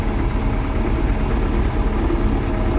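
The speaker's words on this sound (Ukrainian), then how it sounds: "Коротше, трактор цей. З нього шум не видавиш, буде він шуміти." A YuMZ 4x4 tractor engine runs steadily at idle, a loud low rumble with constant vibration and no talking.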